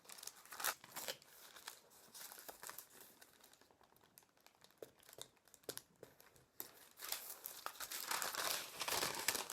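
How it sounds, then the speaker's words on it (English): Masking tape being pulled and pressed along the fold of a paper kite, soft crinkling and tearing rustles in uneven bursts, fairly faint and close. "you need to place some masking tape or sellotape along the edge of this fold"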